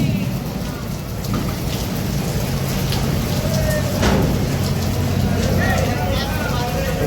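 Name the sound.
heavy rain falling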